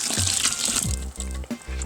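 Wort gently poured back over the grain bed while brewing an all-grain Belgian Tripel, heard as close splashing and gushing liquid in short pours with brief pauses.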